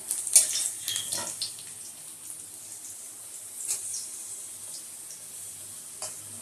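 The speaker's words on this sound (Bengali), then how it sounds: "তারপর ঝোলের জন্য আলুটা কষে নিচ্ছি। আলুটা কষা হচ্ছে।" Potatoes sautéing in a pan for a curry, giving a soft, steady sizzle broken by a few brief scrapes of stirring early on, then settling into a quiet background hiss.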